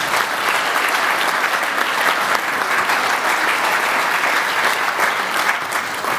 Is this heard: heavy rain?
no